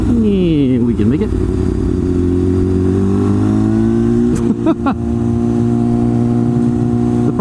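A loud motorcycle engine heard from the rider's position, steady humming drone with pitch sweeping down then settling as speed changes, a few brief clicks and wind noise mixed in.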